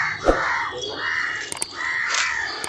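A raptor, a Rajali eagle, gives several drawn-out, harsh screeching calls at moderate volume, with a few sharp clicks between them and no talking.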